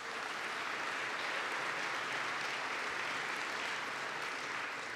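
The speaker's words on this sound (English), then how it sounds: "Let's give them a round of applause." A large audience gives a round of applause for Democratic Assemblymen at a New York event with Governor Andrew Cuomo, an even, sustained clatter of hands at moderate volume with no breaks.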